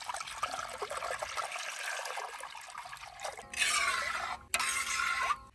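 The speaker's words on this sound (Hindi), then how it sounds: "और यहाँ पे सारा दूध जो है इसमें डाल देंगे।" Two liters of milk poured from a container into a kadhai for village-style Multani sohan halwa, a steady liquid pour that swells louder and splashier near the end, with no talking.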